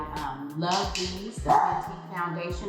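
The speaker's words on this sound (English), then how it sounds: "That's my dog barking. He's in here with me." A pet dog barks indoors, giving a few short barks close by while someone talks over them.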